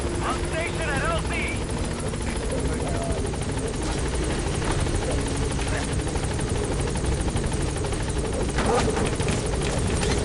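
The B-Quad helicopter in Metal Gear Solid V arrives at the landing zone with a constant, close rotor drone and whine, while radio voices talk over it.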